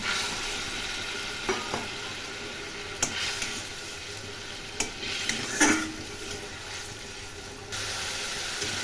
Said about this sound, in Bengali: এর মধ্যে মাছগুলো দিয়ে দিলাম